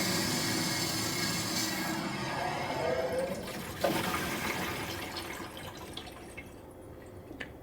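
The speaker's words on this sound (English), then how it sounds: "and we're going to drain the system" Water draining from a garage fire sprinkler system after it is shut off, a soft, continuous rush and trickle that grows slightly around the middle, with a brief clunk, then fades as the flow tapers.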